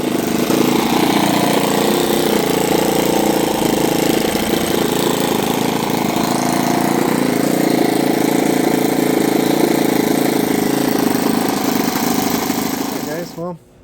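A four-stroke glow engine in an E-flite GeeBee R2 model airplane, not run in a couple of years and needing tuning, runs loud and steady for about thirteen seconds with a buzzing, slightly uneven drone that shifts pitch before cutting off.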